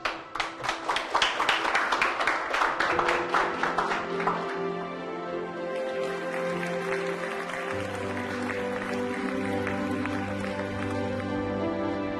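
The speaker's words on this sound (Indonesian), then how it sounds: "Berikan tepuk tangan." Guests at a wedding applaud, with a burst of dense, close clapping that fades after a few seconds into background music.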